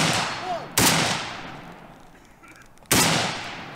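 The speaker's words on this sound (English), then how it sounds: "You can see my rifle sliding with each shot as the bipod struggles to maintain a grip on this loose dirt." Two sharp, loud rifle shots from a bipod-mounted rifle set in loose dirt in woodland, spaced about two seconds apart, each with a booming crack that rings out and slowly decays.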